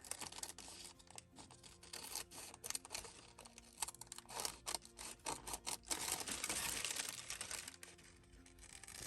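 Scissors cutting through a paper envelope, giving close, dense rustling snips and crinkling in uneven bursts that grow busier midway, with no voices.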